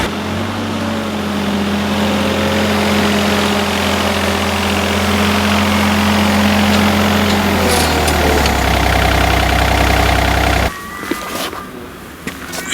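A Hako Citymaster 600 street sweeper idles and then rumbles heavily as it drives over an Olight MX Striker flashlight, its low engine drone steady and close before dropping away near the end with a few scattered knocks.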